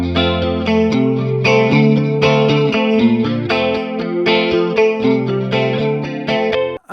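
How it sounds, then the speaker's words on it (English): Electric guitar with Filtertron pickups plays a chorus-drenched, mildly driven chord pattern, close and even in level, strummed and picked in a relaxed rhythm for several seconds. "you can just hear those Filtertron pickups"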